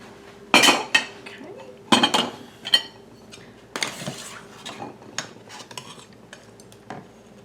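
Glass canning jars clink and knock against metal as they are set into a canner for pickle relish, several sharp clatters followed by softer rattles and scattered taps, close by with a faint voice underneath.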